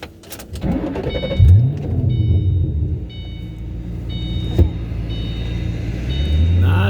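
A Shelby GT500 engine cranks and catches, then settles into a deep, loud, close rumbling idle with a couple of brief surges and a sharp knock midway.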